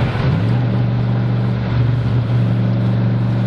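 A Ford Turbo Coupe engine drones loudly from inside the car while driving, a steady mid-pitched hum that rises slightly as it revs.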